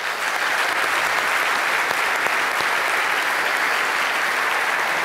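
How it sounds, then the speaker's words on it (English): Sustained applause from an audience at a school awards evening fills the whole stretch, a dense even clatter of many hands clapping without a break and without speech. "you deserve another big round of applause from everyone"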